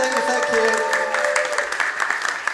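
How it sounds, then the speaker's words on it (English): Audience at a live event breaking into applause, loud and dense at first and thinning toward the end, with a voice talking over it. "Round of applause."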